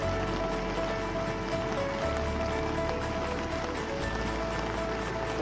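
Rain falls steadily at a camp during a Hamta Pass mountain trek, a constant dense hiss of drops on surfaces with a low rumble underneath and no speech.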